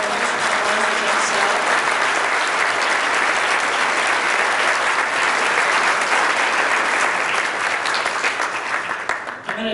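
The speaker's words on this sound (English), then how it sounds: "So big round of applause." Loud, dense audience applause at an advisors' morning event, a steady sustained roar of many hands clapping close by for nearly ten seconds before tapering off at the end.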